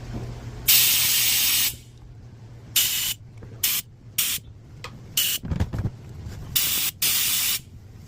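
A Sioux vacuum tester checks the valves on a Mazda forklift cylinder head, giving repeated loud hissing bursts of suction of varying length, separated by quieter gaps with a low background hum.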